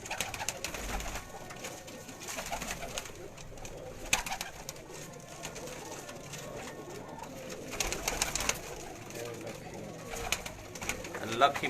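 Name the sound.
breeder pigeons cooing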